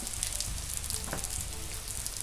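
Mooli paratha frying in desi ghee over a low flame, a steady close crackling sizzle with no talk.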